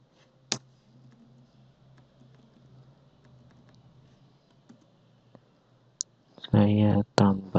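A computer keyboard during a Java programming tutorial: a few sparse, faint key clicks, then a sharper press of the Enter key, followed by a burst of talking near the end.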